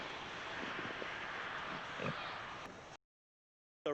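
Pig on pasture giving a few low grunts and oinks amid outdoor noise, fairly faint, ending abruptly into silence.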